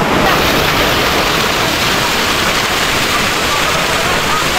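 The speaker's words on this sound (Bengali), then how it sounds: "এটাও মোটামুটি একটা ঝর্ণার মতনই।" A waterfall on a hill trail at Gachkata Chhora in Bilaichhari, Rangamati gives off a loud, steady broadband roar of rushing water that holds without a break.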